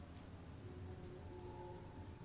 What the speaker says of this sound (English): I guess today it's gonna be rainy